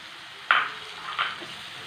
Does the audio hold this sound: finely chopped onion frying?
yes